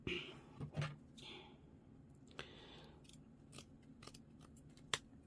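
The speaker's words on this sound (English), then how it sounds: "So if I cut 4 of those off" Scissors snip through crocheted lace trim in a few quiet, crisp cuts, with soft rustling of the fabric between them; no one speaks.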